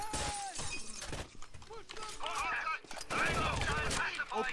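Rainbow Six: Vegas 2 gameplay in a penthouse mission, with a loud, dense burst of gunfire and shattering impacts as the player takes cover, continuous and close throughout.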